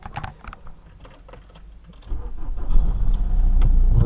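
A car starts moving early in the morning: faint clicks and rustles at first, then an engine and road rumble swell up and hold steady.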